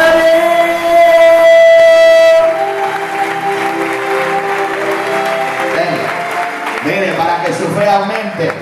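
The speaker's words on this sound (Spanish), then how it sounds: "Denle un fuerte aplauso, mi Señor." A church congregation breaks into loud, sustained applause during a worship service, the clapping continuing steadily throughout over a droning tone and mixed voices, with shouts rising near the end.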